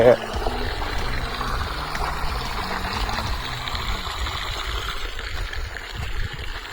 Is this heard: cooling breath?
no